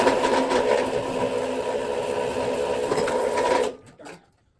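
A Vevor wire stripper machine strips 2/0 copper wire, giving a steady, close mechanical motor whir that holds evenly, then cuts off abruptly with a brief final stutter before silence.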